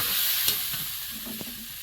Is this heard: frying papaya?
yes